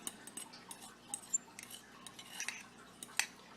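A utensil stirring egg yolk into an egg salad mixture, quiet scraping and light clinks against a bowl, irregular and faint, no talking.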